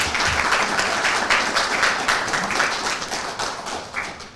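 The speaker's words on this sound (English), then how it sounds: "a rousing round of applause" An audience at an education loan opening ceremony in the Bahamas gives a rousing round of applause: dense, sustained clapping from many hands, loud and close, continuing evenly for several seconds.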